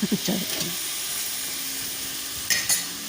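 Ingredients for bachoy sauté in a hot pan, giving a steady close sizzle and hiss throughout, with a few clinks and stirring scrapes at the start and near the end.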